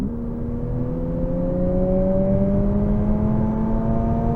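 A 2023 Lexus UX 250h hybrid accelerates in Sport Plus mode, heard from inside the cabin. A whirring engine and drivetrain tone climbs smoothly and steadily in pitch over a few seconds, with no talking.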